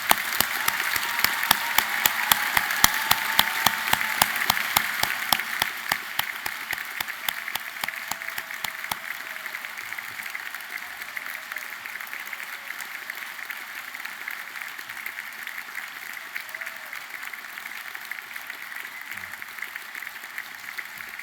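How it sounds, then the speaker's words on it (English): A degree ceremony audience in Wales applauds its graduands: a big hall of clapping with strong, rhythmic unison claps early on that settles into a steady, softer patter for the remainder. "let's start today's ceremony by giving our amazing graduands a huge round of applause"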